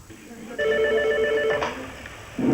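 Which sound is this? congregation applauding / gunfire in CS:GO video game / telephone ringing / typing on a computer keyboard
telephone ringing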